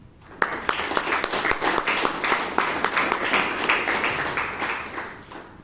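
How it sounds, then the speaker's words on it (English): A Toastmasters meeting audience in Bangalore breaks into a good round of applause for the founding chairman, dense, fairly loud clapping that starts abruptly and holds steady. "Let us give a good round of applause to our founding chairman"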